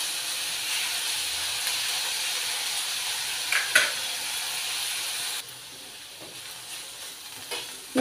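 Ingredients frying in a pan, a steady close hiss of sizzling that drops quieter partway through, with a few clinks of stirring and no talking.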